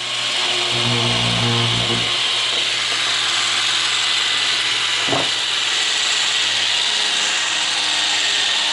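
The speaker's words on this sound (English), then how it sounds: "So you can hear the gyro running there now" A steady mechanical whir from the gyro of an Anderson M5 radio-control motocross bike runs throughout, with a low hum, a brief scraping rub early on and a short knock near the middle.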